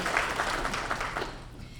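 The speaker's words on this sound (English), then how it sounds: "We can clap for her." An audience at a school district awards ceremony claps for a keynote speaker in a short burst of applause that fades out within two seconds.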